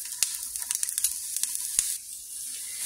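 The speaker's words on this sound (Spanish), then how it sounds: "en un sartén previamente calentado voy a poner aquí el guaje para poderlo asar" Guaje seeds roasting in a preheated frying pan crackle and sizzle close by, with quick sharp pops scattered over a steady high hiss that quiets near the end.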